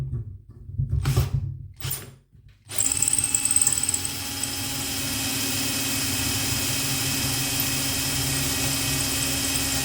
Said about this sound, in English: Or at this copper tube, 5 millimeter drill bit.